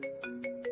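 A phone ringtone goes unanswered, a bright electronic melody of short repeating notes, close and clear with no talk over it.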